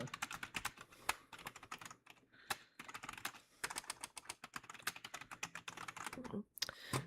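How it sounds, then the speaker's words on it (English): Someone types on a computer keyboard nearby: quick, irregular bursts of sharp keystrokes broken by short pauses, with a faint voice now and then in the background. "I don't know why you're typing."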